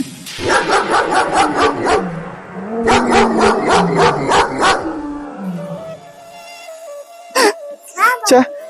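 A dog barks in rapid bursts, two quick runs of sharp yelps, followed by a few squeaky cries.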